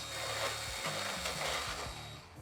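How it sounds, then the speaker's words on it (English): A power drill whines steadily while countersinking the edges of drilled holes in metal bicycle handlebars, the pitch dipping and rising as the bit bites and eases off. "place it inside the electrical drill, and then just go ahead and smoothen out the edges"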